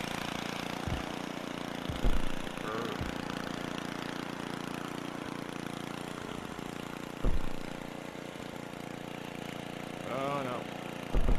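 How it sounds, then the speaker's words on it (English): A lawnmower engine in the physics game Happy Wheels hums steadily throughout, a constant mid-pitched motor drone with a few sharp bumps and thuds scattered over it. "Let's go Lawnmower Larry"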